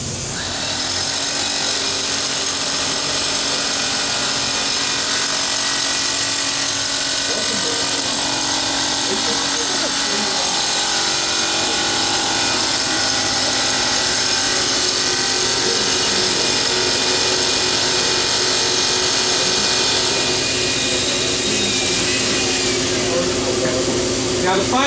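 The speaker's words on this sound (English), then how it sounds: "We're going to drill this slab with a 5/8 inch bit." A power drill with a 5/8 inch bit bores into a concrete slab at a live demonstration, a steady loud grinding whine running throughout with a busy trade-show crowd and speech underneath.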